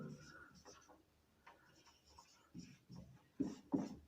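Writing on a board or paper during a chemistry lesson, heard as soft, brief scratching strokes, with a few louder bursts toward the end and a voice faintly in the background.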